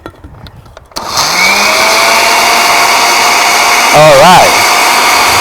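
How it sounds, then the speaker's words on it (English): A blender whirs steadily as it blends fruit and honey for paletas, loud and sustained after a brief start, with a short surge in pitch partway through; someone speaks briefly at the start. "And then we just blend."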